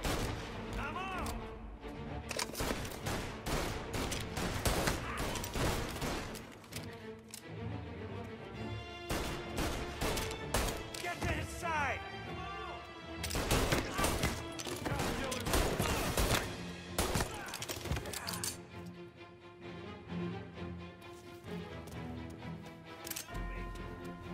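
Guns crack in repeated bursts and volleys during a shootout in Mafia: Definitive Edition, loud and dense against a music score, with shouting voices mixed in.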